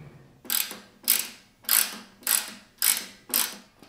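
Sheet metal screws are driven into dust collector housing parts by a ratcheting tool, producing six evenly spaced bursts of rapid metallic clicking, close and clear against a quiet background.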